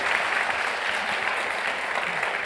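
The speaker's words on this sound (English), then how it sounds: "Let's give them all a big round of applause" An audience at a spiritual community gathering claps steadily, a dense, even wash of applause filling the room with no pauses.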